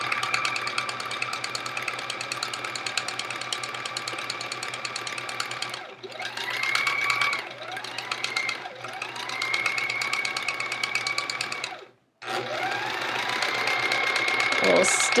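A sewing machine stitches fabric scraps together for a chevron quilt, running in a loud, steady, fast whir that pauses briefly twice before starting up again.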